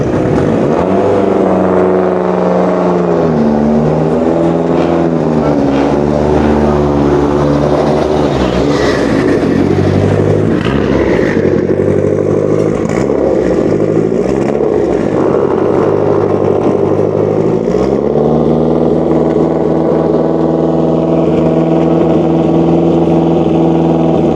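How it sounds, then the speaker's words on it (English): A Lancia Delta Integrale rally car engine burbles and revs at low speed close by at a rally, pitch rising and falling through gear changes, loud and continuous with no voices. "listen to this Integrale moving"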